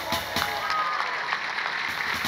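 Clapping from a church gathering's audience, a steady patter of many hands at moderate distance, with voices mingled in.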